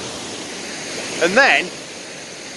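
A waterfall in the Peak District rushes as a steady, broad wash of falling water, loud and close, with a brief spoken phrase from someone nearby over it.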